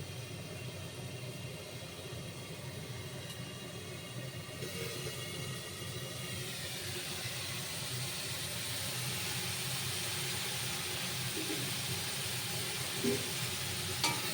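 Cashews and raisins fry in hot oil in a pan, a steady close sizzle running throughout with a continuous broad hiss and low burner rumble, no voices.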